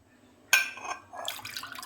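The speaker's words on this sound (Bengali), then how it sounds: "জল দেব আমি" Water from a cup pours into sugar in a pan for syrup, a short liquid splash that starts abruptly and then trickles in bursts, close and fairly quiet, with no talking.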